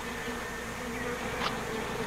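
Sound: bees buzzing during a bee removal

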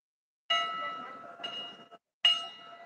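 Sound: bell ringing

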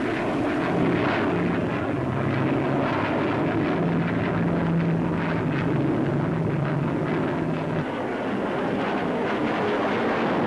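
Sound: Gloster Javelin jet aircraft flying at Farnborough Air Show

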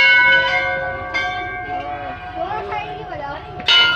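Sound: temple bells ringing at Golu temple

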